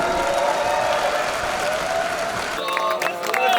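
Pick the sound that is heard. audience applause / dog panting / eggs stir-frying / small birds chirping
audience applause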